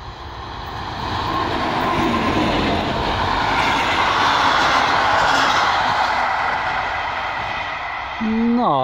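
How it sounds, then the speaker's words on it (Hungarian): A Hungarian class 152 Szili electric locomotive hauling a fast train passes close by, a loud steady rush of wheels and rail noise building and holding for several seconds before easing, with a brief squeal at the end. "a 152-es Szili elhaladt, és ugye, ami gondolható volt, egy gyors vonatnak az élén volt"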